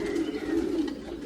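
A low, throaty cooing from homing pigeons swells and fades in soft repeated waves, close by and steady, with no one talking.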